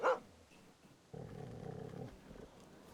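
A single dog bark in a video game rings out at the start, followed by a steady low rumbling growl-like sound that fades after a couple of seconds.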